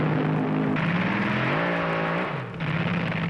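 Gene Snow's funny car at a 1970s drag race roars hard, engine pitch climbing and dropping as it runs, loud and close.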